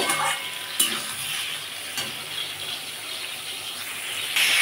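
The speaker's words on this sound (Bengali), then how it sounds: "এদিকে ঝিঙেটা ভাজা হোক" Sliced ridge gourd fries in hot oil in a pan with a continuous crackling sizzle, broken by a few sharper clinks or stirring knocks, and no talk.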